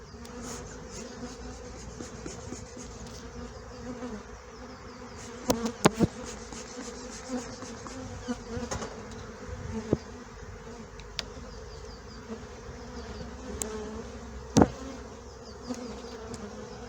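Honeybees swarm and buzz around an open beehive full of honey during a crowded inspection, a dense continuous drone close by with a few sharper knocks and clicks from handling the frames, no speech.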